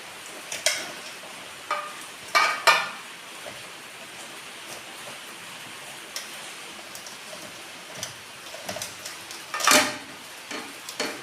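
Hilsa fish pieces are mixed by hand with spices in a bowl, producing intermittent close clinks, taps and soft squelching scrapes spread over several seconds.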